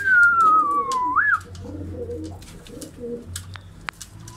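Pigeons in a Kocaeli pigeon shop, including Çifttepe and ayna kuyruk (mirror-tail) show birds, give a loud, close whistle-like call followed by steady low cooing and shuffling in the background.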